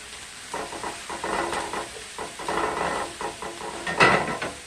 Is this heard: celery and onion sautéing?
yes